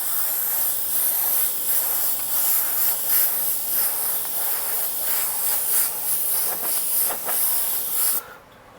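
An airbrush sprays a light coat of white paint in a steady, close airy hiss that runs without a break for about eight seconds, then cuts off abruptly.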